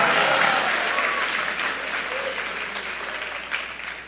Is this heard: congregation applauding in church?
yes